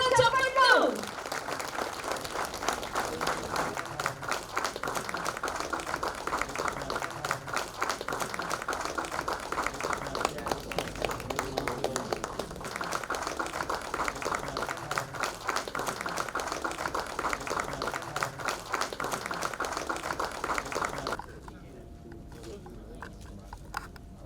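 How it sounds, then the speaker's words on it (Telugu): Audience at a movie teaser launch event breaks into loud, continuous clapping that holds steady for about twenty seconds before cutting off abruptly, leaving quiet room tone. "ఒకసారి గట్టిగా చప్పట్లు"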